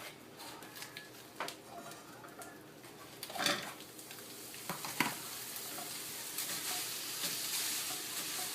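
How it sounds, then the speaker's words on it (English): Meat starting to sizzle in a pan already used for cooking zucchini filling, a soft steady frying hiss that builds over time, with a few clinks and stirring scrapes along the way. "I'm going to go ahead and start cooking the meat in the same pan"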